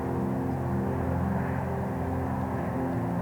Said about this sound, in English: A lot of airplanes coming through right here.